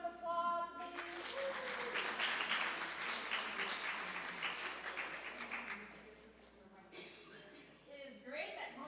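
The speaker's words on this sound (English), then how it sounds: "Can we give my kitchen help a round of applause, please?" An audience at a women's community gathering claps for the kitchen helpers, a moderate burst of applause that swells after a spoken line, then thins out as talk resumes and carries on beneath it.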